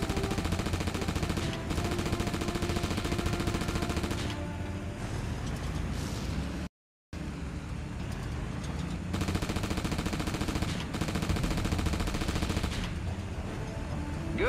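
Rapid gunfire from the Reign of Fire video game on PS2, shooting down targets, sounds as dense, continuous bursts over game ambience, with one brief drop to silence midway.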